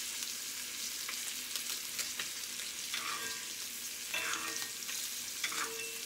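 Salmon fillet searing skin side down in a hot pan, a continuous crackling sizzle with small spits and pops throughout, close and moderately quiet.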